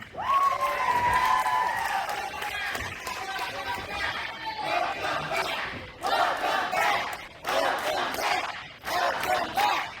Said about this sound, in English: Crowd is so happy to see Vinny.